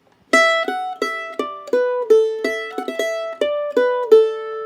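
Solo mandolin plays the opening two measures of an Irish jig's B section: about a dozen clear, close plucked notes in a bouncing jig rhythm, including a quick triplet, with no talking.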